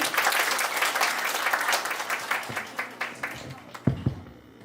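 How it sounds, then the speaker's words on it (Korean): An indoor audience at a Korea Hangung Association ceremony applauds to welcome the association president to the podium. The clapping starts dense and loud, then thins into scattered individual claps before dying away. "큰 박수로 맞아주시기 바랍니다."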